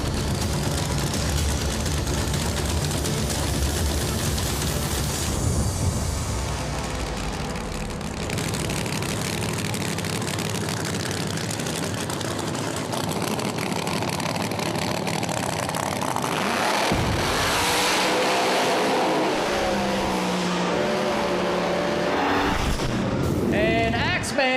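No-prep drag race cars launch and roar side by side in a loud, sustained blast of engine noise that swells and shifts, with a commentator talking over it.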